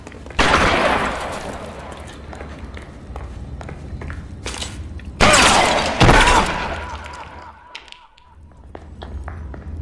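Loud shotgun blasts in the L.A. Noire video game, two heavy booming bursts a few seconds apart over a continuous noisy game backdrop, with a faint tonal trill trailing after.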